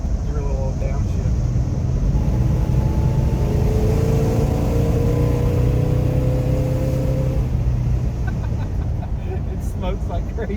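A 1971 Plymouth Roadrunner engine roars steadily while driving, its note climbing and dropping through gear shifts, loud and close under a constant rush of wind, with a voice talking over it.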